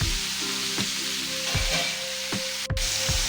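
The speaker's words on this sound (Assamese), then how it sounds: "ফ্ৰাই কৰিব লাগিব আৰু বেছিকৈ হিলাই থাকিব নালাগে, নহ'লে ভাজি লাগি যাব" Potatoes frying in a pan crackle and sizzle steadily, with several soft scraping stirs at regular intervals and one sharp clatter near the end.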